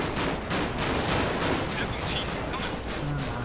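An MG42-type machine gun fires in the Combat Mission video game, a dense, loud, continuous stream of rapid shots packed into unbroken bursts, close and harsh.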